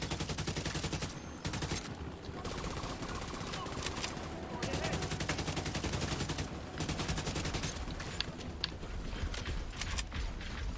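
Turret gunfire in the video game The Division 2, during a breach of the Pentagon: rapid, sustained automatic bursts with short pauses, loud and continuous, with mechanical clatter mixed in.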